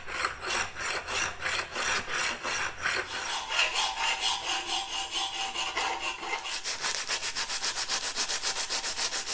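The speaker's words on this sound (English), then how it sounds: "So I'm just going to do that with a file and some sandpaper." A hand file and sandpaper work over steel die halves made from a gate hinge, with steady, loud rhythmic rasping strokes that quicken toward the end, heard alone and up close.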